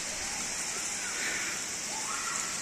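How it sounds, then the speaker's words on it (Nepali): Steady broadband rush of running water, like a small waterfall close by, continuous and even throughout with no voices. "बाटोमा यस्तो सानो सानो झरनाहरू निकै भेटिन्छन्"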